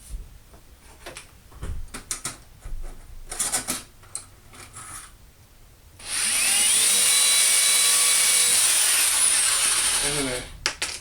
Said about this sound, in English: I'm going to use my drill to drill a nice pilot hole.